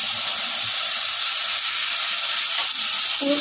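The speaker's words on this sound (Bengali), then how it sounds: "এবার আমি এর মধ্যে দিয়ে দেবো দুধটা" Thickened milk hits hot, deep-fried vermicelli in a pan and gives a loud, continuous steaming hiss and sizzle that holds steady throughout.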